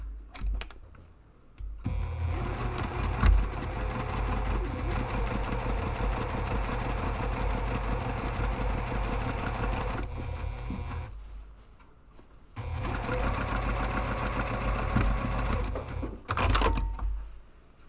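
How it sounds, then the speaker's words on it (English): Sewing machine stitching a seam on a large padded camera bag with foam layers, steady close whirring runs with a pause midway, no talk. "now you're going to stitch from this seam here to this seam here"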